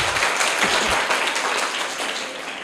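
Applause from a school audience cheering a class 6 student's correct answer in a general knowledge quiz, a steady dense clapping wash that fades slightly toward the end, with no talk over it.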